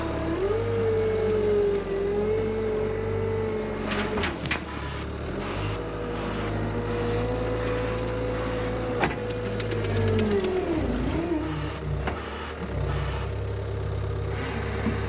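A skid steer runs a topsoil screening bucket through dirt, tilted and angled down, giving a continuous loud engine drone with rattling and churning that shifts in pitch throughout.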